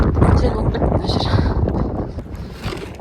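Wind in a snowy village gusts hard against the microphone, a loud close rumbling buffet that swells and eases over a few seconds.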